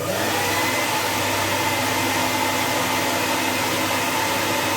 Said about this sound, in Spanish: Voy a prender el secador de pelo.